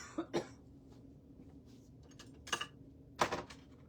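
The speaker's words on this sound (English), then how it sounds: "in case the coughing started" A few dry coughs sound close by, in separate bursts with quiet pauses between them.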